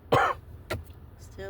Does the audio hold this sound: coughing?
yes